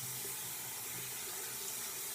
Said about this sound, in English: Rinse out my washcloth.